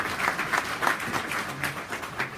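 Brisk applause from the audience at a Pitch@Palace On Tour pitching event in Aberdeen, with dense overlapping claps sounding close and steady for a couple of seconds.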